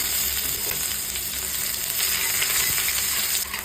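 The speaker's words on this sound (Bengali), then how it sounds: "এবার আমি দিয়ে দেব কুচনো আদা" Chopped ginger sizzles in hot oil already seasoned with cumin seeds and bay leaves, a steady dense crackle that holds close and even, with faint occasional stirring.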